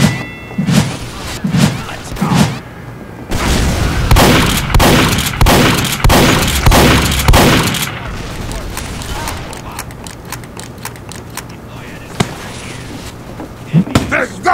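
Rapid gunfire and heavy explosions from Team Fortress 2, a loud regular burst of booming shots in the middle, with thuds and scattered impacts before and after, mixed with game voices.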